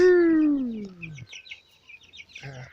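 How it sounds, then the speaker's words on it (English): White broiler chickens on a farm cluck and call, a loud drawn-out squawk up front followed by quieter chattering clucks from the flock, close by. "They're white broilers."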